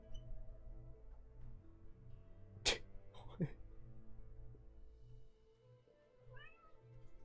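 A pet cat meows indoors in a home, giving a few short, faint calls near the end amid quiet room noise and a couple of sharp clicks.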